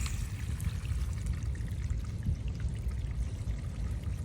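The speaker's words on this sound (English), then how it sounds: "Sounds to me like the water is just pouring into this valve." Water pours into an irrigation sprinkler valve at low pressure, a steady, dense rushing and gurgling that holds constant throughout at moderate level, with no voices.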